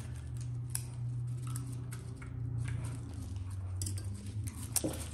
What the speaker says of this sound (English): I'm gonna trim this nice and neat a little bit while I can.